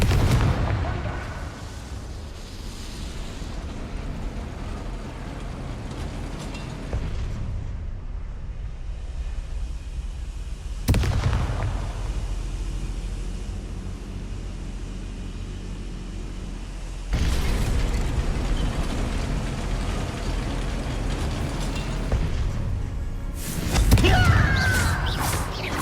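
Confringo fire spell explosions in the video game Hogwarts Legacy burst out as several heavy booms spaced a few seconds apart. Between the blasts, a continuous rumbling bed of fire and ambience fills the gaps.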